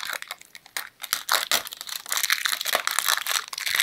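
A plastic packet crinkles and rustles in quick, irregular bursts close to the microphone while an L.O.L. doll gift is unwrapped, with no talking.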